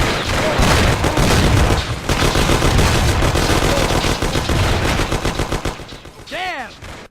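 Shootout in the video game Mafia: dense, loud bursts of machine-gun and rifle fire rattle almost continuously, with heavy booms mixed in, tapering off near the end where a voice briefly shouts.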